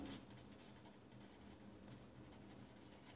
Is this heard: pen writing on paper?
yes